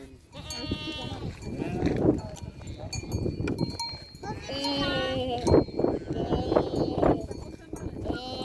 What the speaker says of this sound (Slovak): Ja som myslel, že kozy robia B.